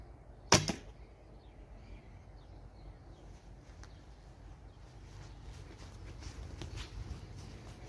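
A bare-shaft arrow shot from a traditional bow gives one sharp, loud release snap followed by a brief rattle, then fades into quiet outdoor ambience with faint scattered ticks.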